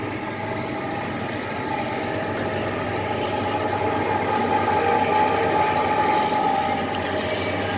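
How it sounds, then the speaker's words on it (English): A train rumbles steadily past, a continuous heavy roar with rattling that holds at a near, fairly loud level throughout. "There comes the train."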